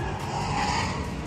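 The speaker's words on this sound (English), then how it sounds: "hopefully you guys can hear me with the drift cars in the background" Drift cars skidding with squealing tires at an indoor car show at the Cow Palace, a continuous loud screech with engine roar, heard from nearby.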